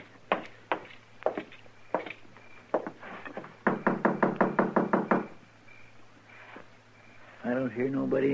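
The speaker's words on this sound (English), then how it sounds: "I thought I heard somebody knock." Knocking on a door in a radio western drama: scattered single knocks, then a fast run of about ten sharp raps, close and loud, with a voice speaking near the end.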